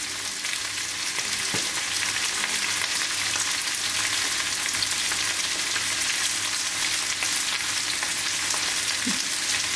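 Steady, dense sizzling from mixed vegetables frying in a hot tawa pan with a pinch of asafoetida, continuous and close throughout with a couple of faint knocks.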